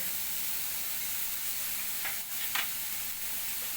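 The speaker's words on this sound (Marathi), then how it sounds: "कोबी हे चांगलं परतून घेऊया" Carrot and cabbage fry in a pan, making a steady, soft hiss of sizzling with a couple of brief stirring scrapes near the middle. No voices are heard.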